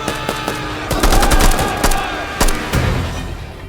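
Gunfire cracks out from an enemy sniper in a war film, a few sharp separate shots followed by heavier bursts of firing close by, with no speech.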